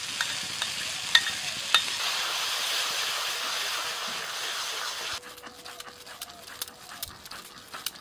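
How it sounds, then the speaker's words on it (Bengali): Yogurt being stirred into a spice paste in a frying pan, with a steady broadband sizzle and a couple of sharp utensil clinks early on; the sizzle drops to a quieter, crackling fry partway through. "এবার লবণ দিয়ে ফেটে নিয়ে টক দই দিয়ে দিচ্ছি।"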